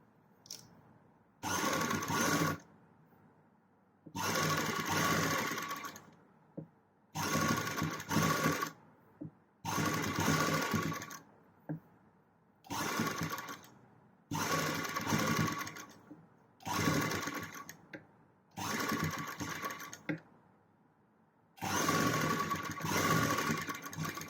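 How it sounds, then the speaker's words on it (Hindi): An electric sewing machine stitches a frill sleeve for a kurti or blouse in about eight separate bursts, each a rapid whirring run of a second or two, with quiet pauses between them. "अब हमें इसके ऊपर ऐसे सिलाई लगानी है।"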